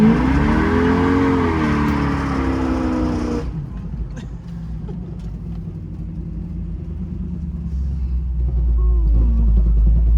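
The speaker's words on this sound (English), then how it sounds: "Good manual shift burnout." A convertible 1968 Firebird with a faulty muffler roars through a manual-shift burnout, loud, rising engine revs and tire scrub for a few seconds, then dropping to a heavy, rumbling idle with brief talk nearby.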